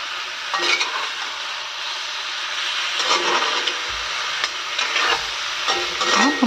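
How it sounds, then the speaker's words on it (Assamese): Broiler chicken meat fries in a pan while being stirred, a constant loud sizzle broken by scraping, rubbing strokes of the spoon against the pan, with no talking. "বইল কৰিছিলোঁ তাৰপিছত আকৌ ভাজি পেলালোঁ"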